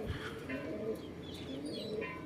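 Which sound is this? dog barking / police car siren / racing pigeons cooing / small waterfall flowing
racing pigeons cooing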